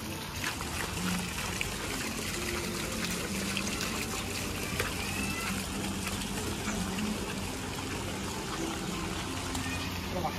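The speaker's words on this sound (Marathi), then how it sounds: "इथून पाणी जाते वरती, हवेत पाणी उडतंय बघा कसं." A fountain in a Thane city park shoots water into the air, making a steady rushing and trickling wash that runs unbroken from start to finish at moderate distance, with people talking over it.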